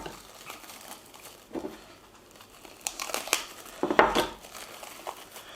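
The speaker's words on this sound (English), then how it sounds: "so let's unwrap it" Close crinkling and tearing of wrapping being peeled off a beef Wellington, irregular rustles with a few louder crackling bursts.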